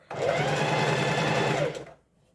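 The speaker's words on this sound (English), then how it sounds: "this is me stitching on the neck bias binding for the neck area" Sewing machine stitching bias binding onto the neckline of a walk away dress, a steady close whirring run of about a second and a half that starts and stops abruptly, with no talking.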